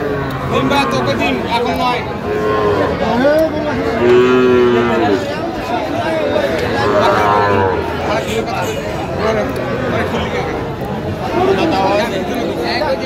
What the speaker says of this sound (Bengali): দেখছিলাম এখানে সুন্দর বাচ্চা, ষাঁড় বাচ্চা।